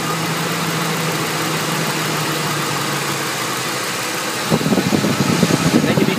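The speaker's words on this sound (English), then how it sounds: "They'll all drop RPM and start running worse like that, right?" A Ford engine with coil-on-plug ignition idles steadily with one coil disconnected, running rough from a dead miss. The hum holds close and constant, then turns louder and more uneven near the end.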